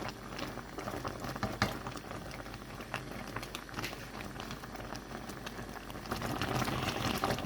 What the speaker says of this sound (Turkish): Şimdi bir 10-15 dakika kadar kaynatıp maya bırakıyorum yine.